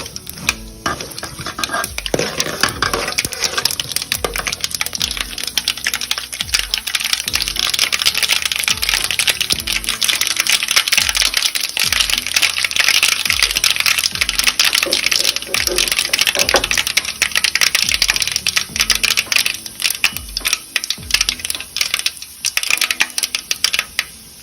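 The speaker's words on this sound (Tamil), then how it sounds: "கடுகை சேர்க்கவும். கடுகு நன்கு பொரிந்தவுடன் மற்ற பொருட்களை சேர்க்கவும்." Mustard seeds splutter in hot oil for lemon rice, giving a dense, continuous popping and crackling with a stirring clatter. The sound is loud and close and runs steadily throughout, with no voice.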